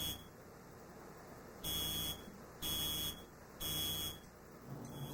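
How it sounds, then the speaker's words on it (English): A home smoke alarm sounds in three loud, evenly spaced shrill bursts of about a second each over a faint steady background hum. "This time we set the alarm off twice."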